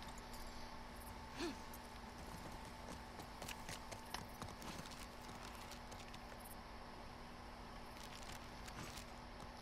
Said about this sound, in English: Gonna get on the horse, Ellie?